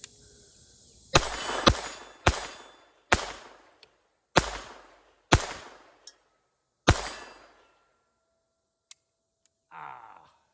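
A Beretta 21 Bobcat .22 pocket pistol fires at steel plates, with seven sharp, fairly loud shots in an uneven series, each followed by a short ringing decay. A faint click and a brief soft rustle follow.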